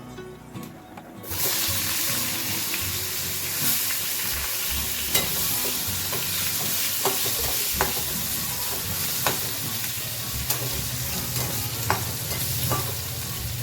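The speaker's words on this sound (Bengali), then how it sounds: "তারপর আমি সবার আগে আলুটা ছেড়ে দিই।" Potatoes drop into hot oil over a cumin-seed tempering for a Bengali Sunday lunch, raising a loud, steady sizzle that runs on without a break, with occasional light clinks of stirring.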